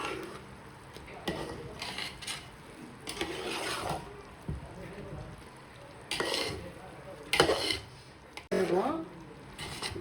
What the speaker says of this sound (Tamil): இப்போ அதை வந்து நம்ம கிண்டி விடலாம்.